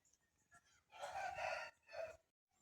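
A rooster at a poultry farm in Nellore crows once in a long, rising-and-falling call, fairly faint and distant, followed by a shorter trailing note and a few soft clucks.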